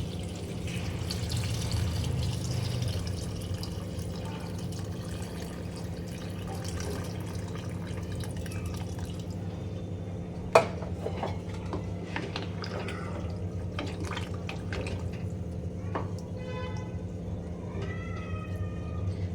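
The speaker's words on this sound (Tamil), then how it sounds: "தண்ணியும் ஆட் பண்ணிக்கலாம்." Water poured into a pot of vegetable biryani with yogurt already mixed in, heard as a steady splashing fill that fades out, followed by scattered small clinks and drips.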